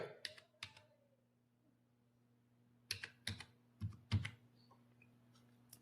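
Quiet, close keystrokes on a computer keyboard entering an OTP into an online KYC form: a couple of isolated taps, then a pause, then a quick cluster of about five keypresses over a faint steady hum.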